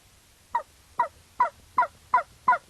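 Six evenly spaced turkey yelps played on a Haydel mouth call by a hunter, crisp and close, about two per second, over quiet background.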